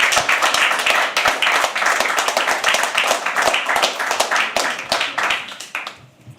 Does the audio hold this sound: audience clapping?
yes